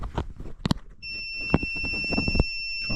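A multimeter in continuity mode, used to check a furnace fuse, gives a steady high-pitched beep held for about two seconds, after brief clicks and handling noise.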